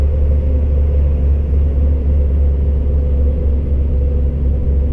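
A truck loaded with 26 tonnes climbs a steep mountain road in tenth gear at about 50 km/h, its deep diesel engine drone and rumble holding loud and steady throughout.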